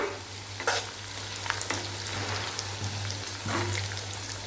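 Tempering of oil with crushed coriander seeds stirred in a pan for poha chivda, a continuous soft sizzle with a few scraping strokes of a spoon against the pan, close and steady.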